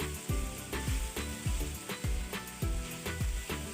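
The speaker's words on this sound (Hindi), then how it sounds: "1 से 2 मिनट और हम फ्राई करेंगे इसको" Beef liver pieces frying in a pan, a continuous sizzle with a regular thumping rhythm of stirring or tapping throughout, close and fairly loud.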